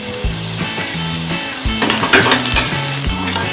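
Onions fry in a pan of oil while being stirred, a steady close sizzle broken by repeated knocks and scrapes of a utensil against the pan.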